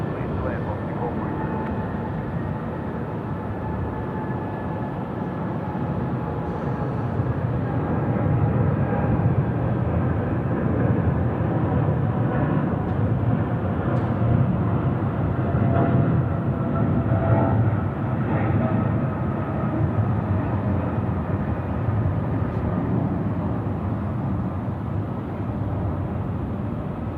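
An airliner landing at Sydney Airport at night, its broad jet engine roar rising and holding steady, loud and continuous, with a low hum underneath.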